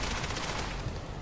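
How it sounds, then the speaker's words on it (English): A burst cannon fires in an indie Armored Core-style mech video game, giving a dense, loud, rapid run of shots with no talking. "That's what the burst cannon do."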